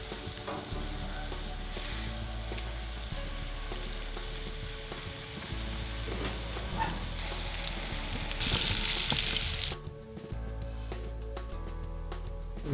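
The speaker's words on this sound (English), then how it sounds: "So I'm gonna sear in a pan with butter and then on the grill to temperature." Steak searing in a hot pan with butter, giving a steady, close crackling sizzle throughout, with a brief louder burst of spitting near the end.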